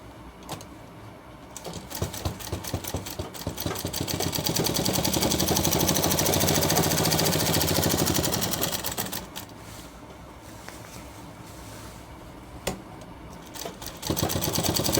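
Sewing machine stitching the shoulder seam of a shirt, its rapid needle chatter running steadily throughout, swelling louder in the middle stretch before easing back, with no talking.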